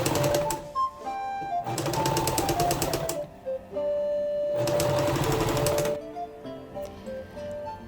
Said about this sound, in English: And then the rest of the panel I will sew together.